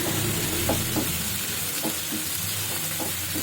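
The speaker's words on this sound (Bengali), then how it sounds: "অল্প করে নমিয়ে দিলাম ভালো করে কষিয়ে নিচ্ছি" Spices stir-frying in oil in a pan for a katla fish curry made without onion or garlic, a steady close sizzle with occasional scraping strokes of a spoon.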